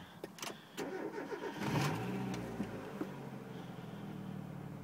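A 1995 Mazda Miata engine cranks with a few clicks, catches, then settles into a steady idle. The sound is close and alone, with no talking.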